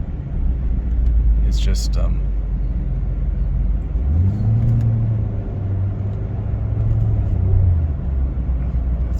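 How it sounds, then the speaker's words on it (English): A broken Ford Focus engine revs out while failing to find a gear, a loud close cabin drone that rises in pitch and holds with brief shifts, under a short spoken remark. "It revs out, can't find a gear. Eventually picks a gear, but it doesn't get into top gear"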